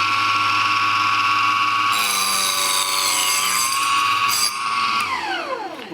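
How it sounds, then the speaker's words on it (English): A chop saw cuts wood for a picture frame, starting with a steady high whine, then biting into the wood with a louder grinding tone before the blade spins down at the end. The sound is close and loud, with no talking. "sometimes a chop saw will kick wood out, and you want to be careful about that"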